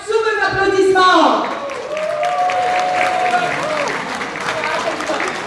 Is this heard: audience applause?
yes